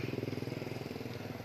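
A Kawasaki NS 200 motorcycle engine running after a dead battery, chugging at a fast, even idle pulse up close and fairly loud.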